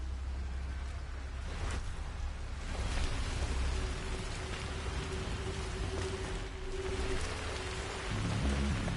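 Steady heavy rain falling in a video game, a constant hiss with occasional low rumbles, even and unbroken throughout.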